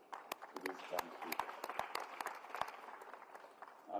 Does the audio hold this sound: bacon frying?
no